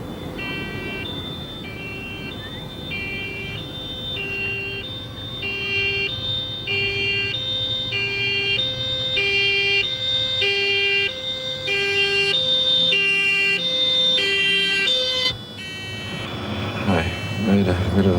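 An ambulance siren wails in a repeating two-tone pattern, loud and steady for most of the stretch, before cutting off near the end.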